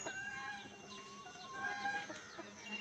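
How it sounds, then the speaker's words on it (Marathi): Desi gavran chicks and hens cluck and peep softly and continuously at a village poultry yard, faint and fairly close, with no talk. "चला पिल्ल सोडायच्यात मला अजूक"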